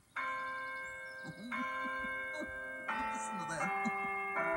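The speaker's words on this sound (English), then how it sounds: "Man, that's what I call a doorbell." An elaborate mansion doorbell rings out a sustained multi-tone chime melody like church bells, loud and resonant, with a few faint voice-like sounds underneath.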